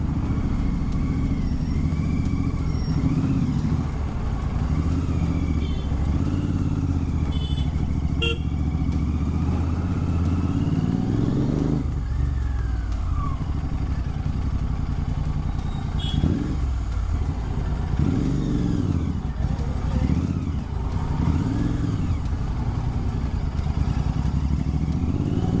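A Royal Enfield Continental GT 650 motorcycle rides slowly through crowded market traffic, its engine burbling low and steady, with passing vehicles, clatter and a short horn blast mixed in.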